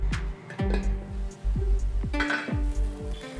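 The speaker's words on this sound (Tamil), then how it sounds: "நல்லா மிக்ஸ் பண்ணி விட்டுட்டு மூடி வச்சுருங்க." A snake gourd puttu being stirred in a pan with a spoon, giving repeated close metallic scrapes and clinks over a soft sizzle, ending with a lid being set on.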